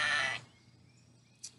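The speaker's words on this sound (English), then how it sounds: "That's the sound a sheep makes." A sheep bleats once, a loud close baa that fades out, followed by quiet background and a brief faint click, with no talk.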